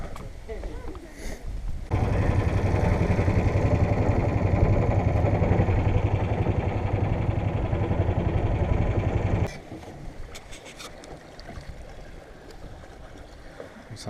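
Small boat engine running steadily on a river in Kratié, Cambodia, a loud continuous drone with water noise that cuts down sharply near the end, while people talk.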